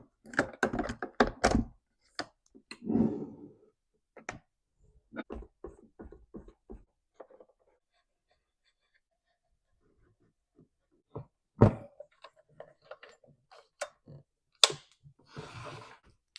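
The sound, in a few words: putting recoil starter back on Stihl MS 462C chainsaw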